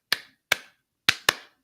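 Four sharp hand claps ring out alone in two pairs, spaced irregularly, each with a short bright decay, the kind used to call a class of students to attention.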